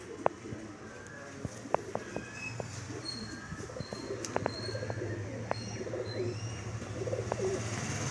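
A male Madrasi pigeon coos in low, steady tones while sharp clicks and chirps pop up around it, moderately close for about eight seconds.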